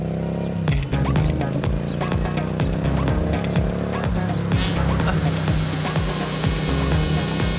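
A car drives and pulls up on a road, its engine steady and near, with a tire squeal as it brakes to a stop and music-like tones running underneath.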